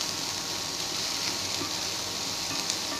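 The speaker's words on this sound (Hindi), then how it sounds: "ये लेवल पे अब मैं इसमें जो है प्याज डाल दूंगी। प्याज को भी हमें बहुत ज़्यादा नहीं भुनना है" Chopped onions frying in a pan over high heat for a minced-meat stuffed capsicum filling, a steady, even sizzle, close and moderately quiet, with no talk.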